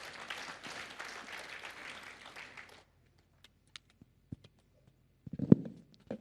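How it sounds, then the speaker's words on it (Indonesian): A church congregation at a Sunday service claps in a warm burst that runs for about three seconds and then stops abruptly, leaving near silence broken by a few faint clicks and small knocks. "Mari kita sehati kita berikan tepuk tangan yang meriah"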